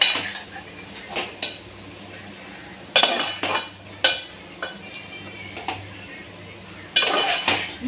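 Marinated mutton is mixed in a metal bowl with a spoon, giving irregular clinks and scraping knocks against the bowl, close and fairly loud, over a quiet background.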